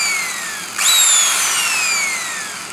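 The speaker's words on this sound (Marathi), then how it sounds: "Hand drill machine." An electric hand drill in a sheet metal workshop is switched on and whines up sharply, then holds a high motor whine that slowly drops in pitch, close and on its own.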